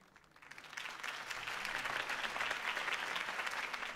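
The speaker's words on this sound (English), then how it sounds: "If only Mr. Wayne, my campaign's largest backer, could have heard that applause" Applause swells from quiet to a full, sustained clapping of a large crowd at a campaign speech in Batman: The Telltale Series, steady and moderately distant.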